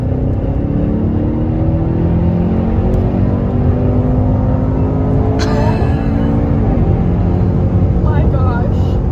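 A 2018 Mercedes-AMG E 63 S station wagon accelerates hard, its engine note rising steadily through the gears in a loud, close roar heard from inside the car, with brief speech over it.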